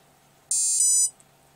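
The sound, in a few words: ESC calibration beeps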